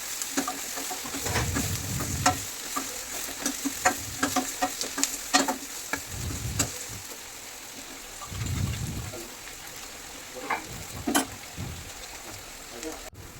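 Ginger paste frying in oil in a steel kadai, stirred with repeated scraping strokes over a steady sizzle, close and fairly loud; a person talks at points.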